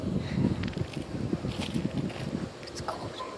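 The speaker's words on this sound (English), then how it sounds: "It's windy." Wind blows across the microphone outdoors in a cold, rocky backyard, a rumbling buffeting with gusts, mixed with crunching footsteps on rocks.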